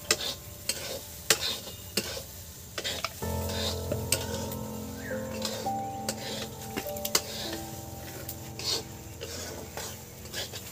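Spices and turmeric being stirred and fried in a pan for khichuri, a steady sizzle broken by sharp scrapes and knocks of the spoon, with a low background hum underneath.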